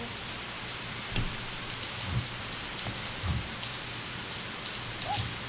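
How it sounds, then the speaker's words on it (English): Steady rain patters on a surface, a constant hiss with occasional louder drips standing out. "Sorry for the rain in the background."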